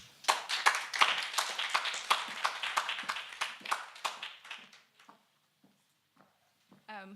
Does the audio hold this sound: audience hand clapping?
yes